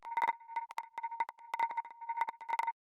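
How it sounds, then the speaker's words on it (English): A small granular percussion sound built by feeding a short percussion hit through a Max for Live granulator: a quick stuttering run of clicky, pitched grains, bunched into irregular bursts, close and dry, ending abruptly. "the last sound that we have here is just this little granular percussion thing"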